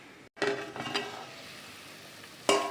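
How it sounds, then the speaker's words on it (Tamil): Water boiling in a pot for kuska rice, a soft steady bubbling hiss close by. It is broken by two sharp clinks of metal utensils against cookware. "தண்ணி நல்லா கொதி வந்தது."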